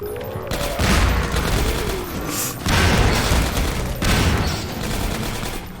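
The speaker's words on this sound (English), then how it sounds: "I'm going to just throw my grenade" Heavy grenade blasts in Half-Life 2 Episode 1 boom in a quick series of three loud, close explosions, each with a rumbling tail, and no talk over them.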